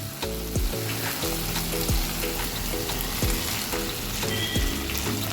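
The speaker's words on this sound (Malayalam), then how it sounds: "ഇനി നമുക്ക് ക്യാബേജ് ഇട്ട് കൊടുക്കാം" Cabbage tipped into a pan of potato curry for roti, frying with a steady close sizzle and crackle, while a few soft clanks and stirring knocks repeat at roughly regular intervals.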